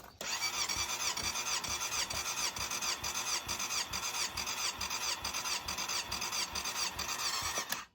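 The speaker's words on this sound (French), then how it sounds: "On ouvre en grand les gaz." A Yamaha Fazer 600 motorcycle engine held at full throttle, giving a loud, sustained, buzzing high-rev drone with a fast pulsing rhythm that holds steady for several seconds before cutting off.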